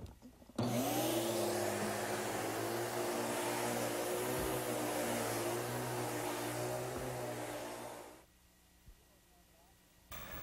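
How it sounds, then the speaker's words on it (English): A vacuum cleaner runs steadily with a loud, close whine while vacuuming stairs, then switches off and leaves near quiet. "So let me vacuum these stairs for you."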